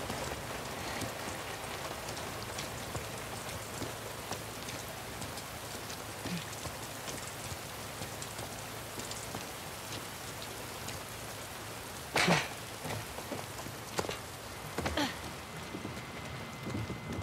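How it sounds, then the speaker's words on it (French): Steady, dense rain pours throughout a scene in the video game The Last of Us Part 2, a constant hiss with pattering drops and a few sharper splashes or thumps near the end, with no one speaking. "Sympa la pluie, hein. J'aime trop la pluie."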